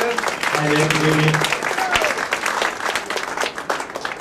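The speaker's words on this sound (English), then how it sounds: "So give him a big round of applause." An audience at a whisky tasting event claps for the Laphroaig distillery manager, a burst of applause with a few shouts and voices mixed in, fading unevenly over several seconds.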